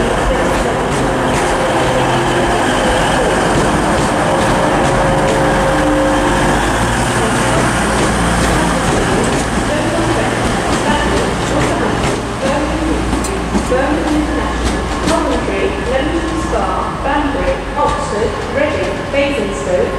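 A TransPennine Express Class 185 diesel unit pulls out of Manchester Piccadilly on a reversing departure, its engine rumbling loud and close with a steady low drone and rising hum, plus station ambience and a voice talking over it.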